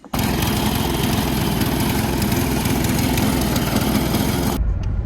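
A light lawn mower engine runs steadily and loudly up close, kicking in at the start and cutting off abruptly near the end, with no talking.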